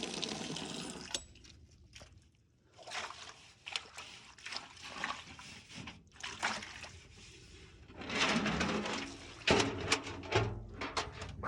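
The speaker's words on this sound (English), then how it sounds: "getting some water in it so I can rinse the dust and dirt out" Water runs and splashes into a container to rinse out dust and dirt after long storage, an uneven stream of trickles and splatters with brief pauses, fairly close and moderately loud, without talk.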